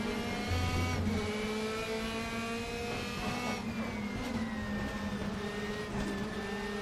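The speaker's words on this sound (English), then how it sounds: "I do love the sound of these DTM cars though." A DTM race car engine in the video game RaceRoom Racing Experience, at the Bilster Berg track, roars steadily at high revs, its pitch rising and dipping slightly with gear changes, loud and close throughout.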